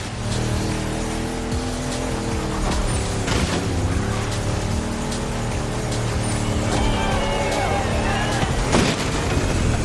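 Racing car in The Crew Motorfest driven on a dirt road, its engine droning steadily with rising and falling revs, tire and gravel noise mixed in, loud and continuous for the whole stretch.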